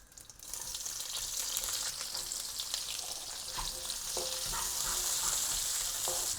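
Mustard seeds pop and crackle in hot oil while making cauliflower and pea sabji, a steady loud sizzle with scattered sharp pops that grow busier toward the end.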